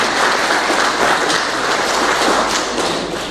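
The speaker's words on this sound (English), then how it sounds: "Please a round of applause for our Director General." Audience at a pension industry council inauguration in Nigeria gives the Director General a round of applause, dense, loud clapping from a large crowd that swells slightly then begins to fade near the end.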